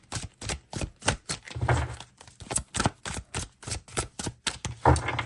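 Tarot cards are shuffled in quick, crisp riffles and taps. The strokes come close and steady, about two or three each second, with no talking.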